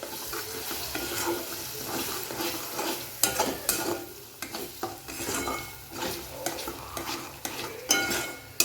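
Spinach being stirred into frying potato bhaji in a pan: a spoon scrapes and clinks against the metal in irregular strokes over a soft, steady sizzle, close up, with no talk.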